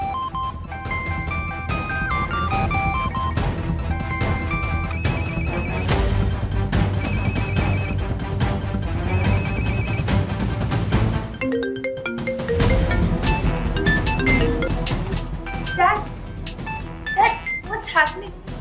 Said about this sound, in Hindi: जीजा जी, इंदौर से फोन है।